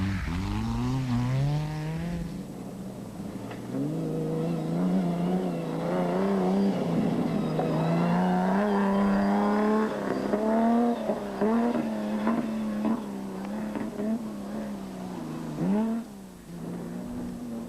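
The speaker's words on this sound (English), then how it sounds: "they ploughed through the thick sand which sapped the power of their 6-cylinder Castrol Toyota Land Cruiser" A 6-cylinder Castrol Toyota Land Cruiser racing through thick sand, its engine droning and rising and falling in pitch as it strains and revs, steady and fairly loud over about eighteen seconds.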